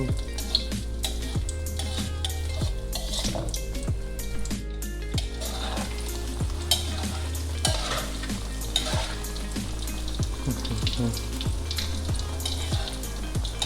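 An omelette frying in hot oil in a pan, turned and scraped with a metal spatula; a steady loud sizzle runs throughout with repeated scraping and tapping strokes, no voices.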